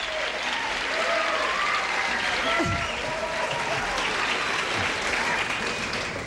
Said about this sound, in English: They're applauding bedpans there